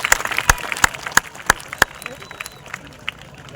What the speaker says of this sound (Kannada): ದಯವಿಟ್ಟು ಜೋರಾಗಿ ಚಪ್ಪಾಳೆ ಬರ್ತದೆ.